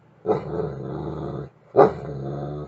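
A dog growls in two long, close, loud rumbling bursts with a short pause between, no talking.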